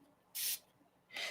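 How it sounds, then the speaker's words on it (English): Two quick spritzes of water from a spray bottle misting a large stamp, short sharp hissing bursts separated by a brief pause, close and fairly quiet with no talking. "you want to spray this about 2 to 3 spritzes"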